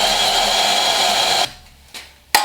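A power drill whirs steadily and loudly while boring pilot holes for a Ford Bronco door hinge, then stops, followed by two short revving bursts.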